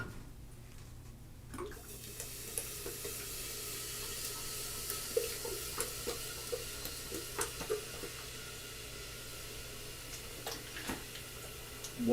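Water poured into a humidifying kettle: a faint steady trickling hiss with soft irregular drips and clicks, quiet and continuous after a brief near-silent start.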